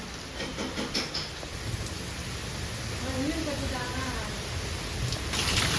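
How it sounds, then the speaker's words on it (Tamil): Heavy rain pours steadily outdoors during a storm, a broad constant hiss that swells slightly louder toward the end, with brief faint voices and a few soft knocks underneath. "பயங்கரமா மழை பெஞ்சிட்டு இருக்கு."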